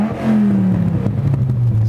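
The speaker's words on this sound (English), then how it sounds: "the sound it actually makes, because it does have an exhaust system on it" Exhaust note of a 2006 Dodge Viper coupe idling close up, a loud, deep, steady rumble with a low tone that sags slightly over its short length.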